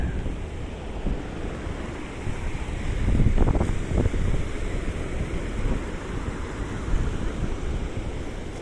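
River water running at a normal, moderate flow, a steady broadband wash heard up close and outdoors, with a brief louder surge partway through and wind noise across the microphone.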